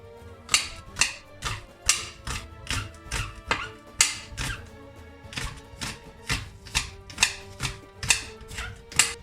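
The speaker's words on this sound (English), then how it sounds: "Cut 4 spring onion." A knife chops spring onions for a Turkish potato salad in a quick, steady run of about twenty sharp, close taps with no speech.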